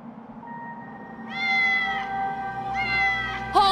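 Several cats meow in the video game Batman Arkham City: a plaintive drawn-out meow followed by two more rising, wavering cries, the last one sharper; close and clear, with no talking.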